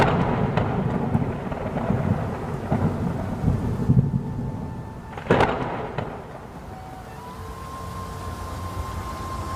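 Heavy cold rain with thunder, a steady roar of rainfall broken by rumbling thunder and a sharp crack near the middle, then continuing downpour with a faint tone.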